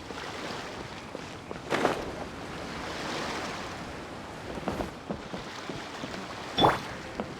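Ocean waves in the video game Genshin Impact roll and wash in a steady surf wash, with a few louder swells and splashes rising above the continuous hiss; no voices.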